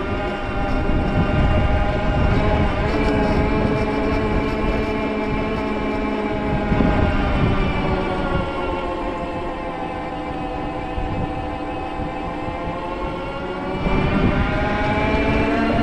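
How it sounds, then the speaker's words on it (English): Bimotal Elevate e-MTB motor whining under throttle while climbing a steep, punchy trail section, a continuous loud drone whose pitch rises and falls with speed, heavy wind and trail noise around it. "You can hear, especially as I get a little faster, the motor ramp up on noise there."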